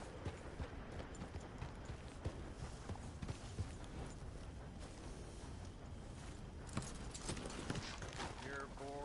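Horse hooves clip-clop steadily in Red Dead Redemption 2 as a rider moves at a trot through Saint Denis, with rhythmic hoofbeats under background game sound.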